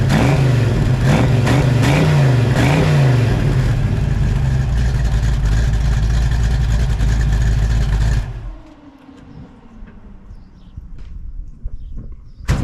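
A 1965 Mustang Fastback with a 347 stroker V8 and GT dual exhaust revs hard several times up close, then holds a loud rumble before the throttle drops and it settles to a quieter idle with scattered clicks.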